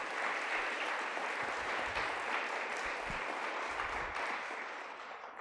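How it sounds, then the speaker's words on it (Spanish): Church congregation applauds during a Spanish-language service, a moderately quiet, sustained patter of many hands with a few low thumps, easing slightly toward the end. "¿Por qué no le damos un aplauso a Dios por la vida de nuestros pastores también?"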